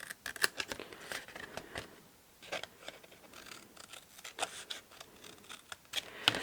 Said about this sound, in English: That's a really big pair of scissors.